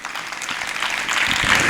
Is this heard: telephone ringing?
no